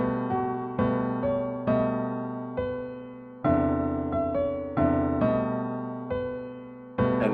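A deliberately dissonant version of a simple melody on a piano-like instrument, clashing struck notes and chords ringing and fading one after another, with no talking.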